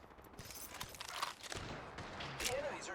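Rampart's minigun firing in a video game shooter, a rapid burst of gunfire under ongoing player talk, moderately loud and mixed with other game effects.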